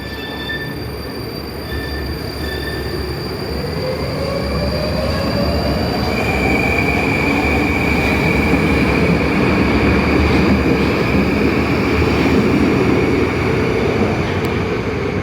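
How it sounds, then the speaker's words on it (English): A Moscow metro train pulls away from the Marina Roshcha station platform, with loud steady rumble, rising wheel and motor whine and squealing rails building and holding close by throughout, no talk. "Let's watch this train pull off"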